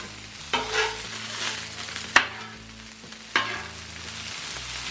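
Lap cheong fried rice stir-fried in a hot pan, with a steady sizzle under repeated scraping and tossing strokes, a couple of sharper clanks standing out, close and alone without talk.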